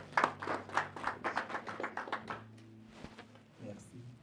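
Several people clap in a quick, even rhythm during a church gathering, then the clapping fades into a low murmur of voices and room sound.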